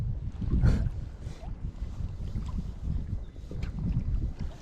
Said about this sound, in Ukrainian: Зараз у нас піднявся такий штурмовий вітер, друзі.